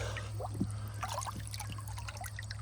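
Water trickles downhill through a hose into a partly filled tank, a steady close gurgling stream with small splashes and drips over a constant low hum.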